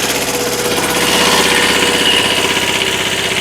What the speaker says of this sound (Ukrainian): Люблю я, коли ковбаситься кубота